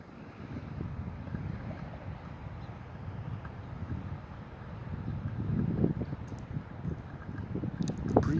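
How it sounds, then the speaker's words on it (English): Outdoor breeze buffets the microphone, a continuous low rumbling whoosh that swells and eases without pause, fairly close and moderately loud. "The breeze may have picked up a little bit"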